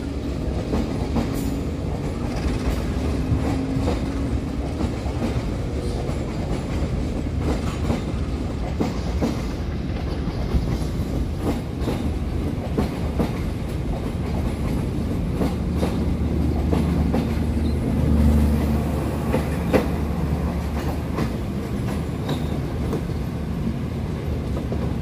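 Train rolling through a busy Indonesian station, with steady rumble and rhythmic wheel clatter over the rails, moderately close, continuous for the whole stretch and without speech.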